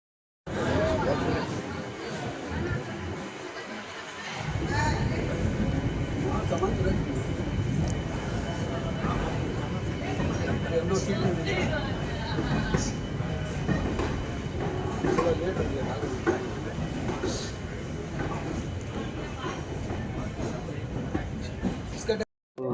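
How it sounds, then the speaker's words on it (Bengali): The Maa Tara Express runs after leaving Sealdah, a continuous loud rumble and rattle of the moving train heard from inside, with passenger chatter mixed into the steady noise. "মা তারা এক্সপ্রেস এখন বাজে 7:20, একদম পারফেক্ট টাইমে ছেড়েছে শিয়ালদা থেকে"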